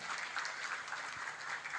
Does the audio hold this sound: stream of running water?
no